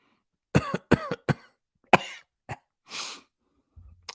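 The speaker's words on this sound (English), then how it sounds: "Pardon me for the coughing." A person coughs several times in close, sharp bursts, followed by a raspy breath and a faint rustle.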